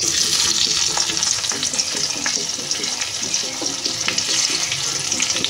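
Onion hitting hot oil tempered with five-spice seeds beside lightly boiled potatoes, a dense close sizzle with scattered stirring clatter throughout.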